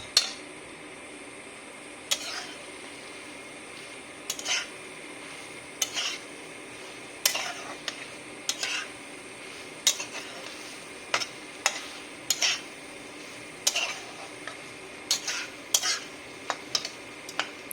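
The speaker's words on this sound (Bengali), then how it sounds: "এটাকে আমি আবার একটু ভালো করে নাড়িয়ে নেব" Ridge gourd and potato curry with whole poppy seeds is stirred in a pan: sharp metallic scrapes and clinks of a spoon arrive in an irregular series over a faint, low sizzle, close up with no talking.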